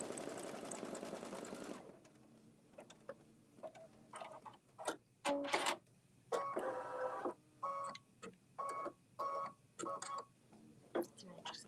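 An embroidery machine stitches the small handles on a holiday apron design, heard as bursts of rapid mechanical needle clatter with short pauses, after a brief stretch of people talking at the start.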